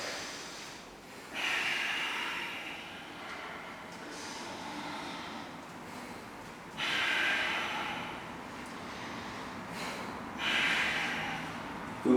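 Slow, deep yoga breaths during a floor class with hips sinking into the stretch: three long airy swells of inhaling and exhaling, close and soft, separated by quiet pauses.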